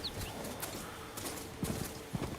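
Faint, steady hoof clip-clops from a video game horse trotting along, evenly paced, with no talking.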